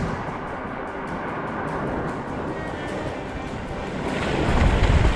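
Ocean waves on a shore, a continuous close wash of surf mixed with wind buffeting the microphone, swelling louder toward the end as a wave breaks nearby.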